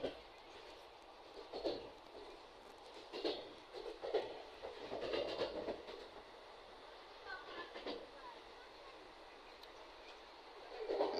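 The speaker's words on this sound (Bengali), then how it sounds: "আমি ট্রেনের ভিতরে আছি," Interior of a moving passenger train: a continuous low rumble with recurring swells and rattling clatter, heard from inside the carriage, with faint background voices.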